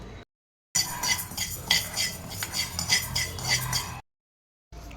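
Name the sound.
spoon stirring lentils roasting in a pan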